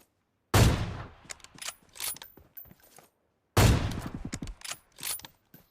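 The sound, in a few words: AWM sniper rifle gunshots in the video game PUBG Mobile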